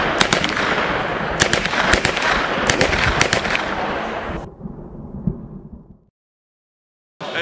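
Rapid bursts of loud gunshot-like bangs crack in quick irregular succession over a harsh noisy background at a casual outdoor gathering, then fade into a quieter rumble before dropping to silence.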